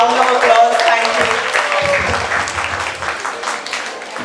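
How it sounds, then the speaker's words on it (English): An audience claps in welcome for an 8-year-old author named Arya at a book launch, a dense burst of applause that slowly tapers off, with a voice speaking over it near the start. "please welcome her with a round of applause"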